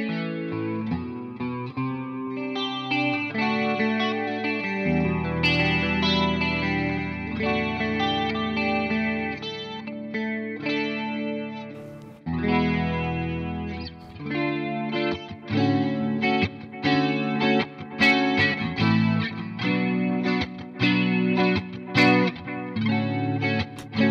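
Telecaster electric guitar played through a Valeton GP-200 multi-effects unit with delay and chorus added, a continuous strummed and picked passage with shimmering, echoing chords that briefly drop out near the middle, heard alone without talk.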